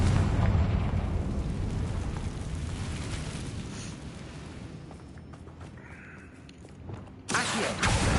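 A Confringo fire spell goes off in the Hogwarts Legacy video game, a muffled explosive rumble fading over several seconds before a sharp loud burst near the end, with footsteps and game noise underneath.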